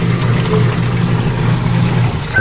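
A washing machine with a newly replaced motor spins with a steady low hum and a swishing churn of water, loud and close, with no voices.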